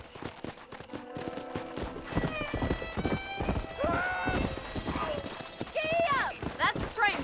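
In the Red Dead Redemption video game, a horse's hooves clip-clop in a galloping rhythm, with loud whinnies breaking through near the end while someone speaks over the action.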